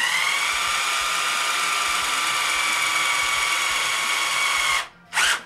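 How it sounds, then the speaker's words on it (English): A power drill whines steadily as it bores through the first layer of a double-hung window frame while the window is installed, loud and close, then stops briefly and revs again in a short burst at the end. "When you drill through, you only want to go through the first layer, not all the way through"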